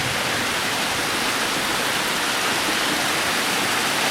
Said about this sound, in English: this little tiny river. runs through Andorra